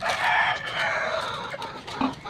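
A backyard rooster crows loudly and close by, one long stretched call followed by shorter clucks from the flock, with no voices over it.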